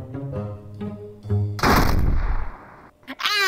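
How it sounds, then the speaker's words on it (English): Gunfire in the VRChat video game: a sudden loud burst of shots that sustains for over a second, then a brief gap and another sharp blast, preceded by a short humming tonal sound. "I guess I shot you by accident."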